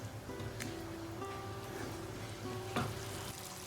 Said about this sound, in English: Let it come to a simmer, then cover and let it cook.